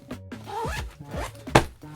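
A zipper runs around a packed carry-on suitcase in several quick, rasping pulls at close range, ending in one sharp loud tug.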